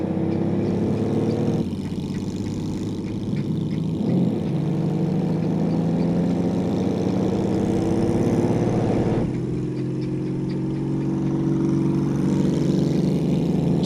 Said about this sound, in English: It's either the final drive or a wheel bearing. I'm voting wheel bearing.